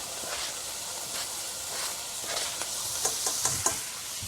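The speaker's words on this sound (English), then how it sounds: "I'm going to saute this for about, well, again, 3 to 4 minutes" Apples, raisins and garlic sauté in a pan with a soft, continuous hiss and sizzle, close by, with a few light stirring taps toward the end.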